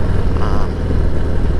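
A 2024 Harley-Davidson Heritage Classic 114 (FLHCS) motorcycle on the move, its engine giving a steady, loud, low rumble throughout with no talking.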